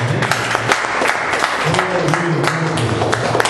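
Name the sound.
church congregation applauding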